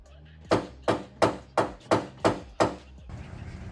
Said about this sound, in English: so we'll get the dead blow. We'll tap that in the rest of the way.